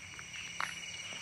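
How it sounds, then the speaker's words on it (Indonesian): Faint, high crickets chirp steadily in a quiet outdoor setting at night by an asphalt road through forest in Java, with a soft scuff nearby. "guys bisa dengarkan suara Jangkrik."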